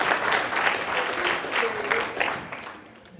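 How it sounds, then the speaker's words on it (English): Audience applause at a church gathering, a moderate wash of clapping that swells and slowly fades over a few seconds. "Let's give an applaud to all of the people, all of the amazing number of people who created the food that we ate"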